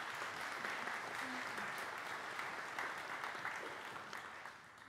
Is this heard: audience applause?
yes